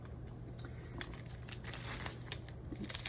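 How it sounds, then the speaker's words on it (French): A small plastic bag of diamond painting drills is cut open at the corner, giving faint, close crinkling and snipping sounds over a low steady hum. "Je coupe juste le coin comme ça ici."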